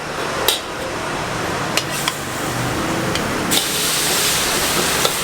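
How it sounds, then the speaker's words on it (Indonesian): Garlic dropped into hot oil in a wok while cooking Chinese food, a continuous loud sizzle and hiss with a few sharp clinks of utensils against the pan. "Sekarang kita masukin bawang putihnya."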